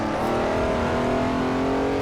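A Ferrari 330 P4 race car in the Assetto Corsa racing game, its engine holding a loud, steady, high-revving drone throughout with no talk over it.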